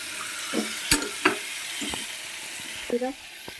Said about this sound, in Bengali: ডালটা দেখো কেমন ভাজছে